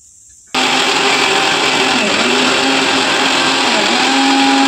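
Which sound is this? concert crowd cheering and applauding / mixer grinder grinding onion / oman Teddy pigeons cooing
mixer grinder grinding onion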